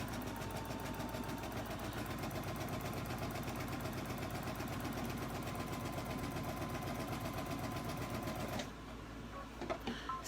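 Steady, continuous stitching of a sewing machine fitted with a pearl and piping foot, running loud and close for about eight seconds before stopping abruptly, followed by a few faint handling clicks.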